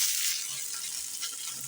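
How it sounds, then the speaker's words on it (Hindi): Spices frying in hot oil for chicken masala, a steady close broadband sizzle with faint stirring scrapes, continuous and fairly loud throughout, no voices. "अब अच्छे से हमारे सब मसाले हम इसमें भून लेंगे"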